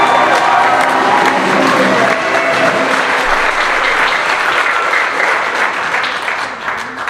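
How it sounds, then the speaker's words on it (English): A school concert crowd gives a big round of applause for an 8th grade choir, loud continuous clapping with some cheering mixed in, filling the room without a break. "Big round of applause."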